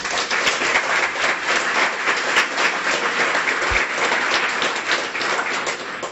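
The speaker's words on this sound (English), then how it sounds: "I would like to have a warm round of applause for the Doolittle Family Foundation for their support" A warm round of applause fills a graduation ceremony hall for guide dog handlers, dense steady clapping from a large audience running throughout at an even loudness with no voices.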